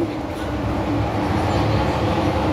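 Hong Kong Disneyland train interior, a steady low rumble and rattle of the carriage rolling along the track, close and continuous throughout.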